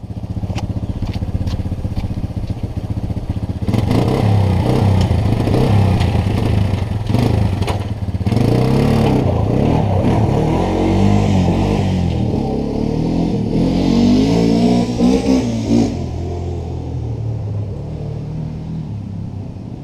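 A repaired quad bike engine runs on a test ride, rumbling and revving loudly up close with clattering and uneven throttle surges, then easing off toward the end.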